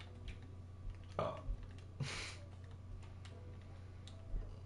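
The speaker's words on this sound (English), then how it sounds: "you hear my disgusting belch in the background" A single low, brief belch from a person in the background, faint against a steady hum, followed by a few scattered clicks.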